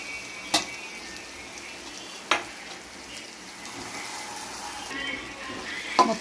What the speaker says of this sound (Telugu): పాలకూర కూడా మంచిగా అయితే ఫ్రై అయిందండి